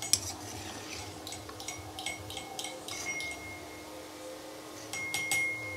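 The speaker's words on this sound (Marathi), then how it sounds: "हे आता मी पाकामध्ये टाकून देते" Homemade fried gulab jamun being put into sugar syrup in a pot, with soft splashes and a continuous low bubbling, plus several bright metal clinks of a spoon against the vessel, close and moderately quiet, no voices.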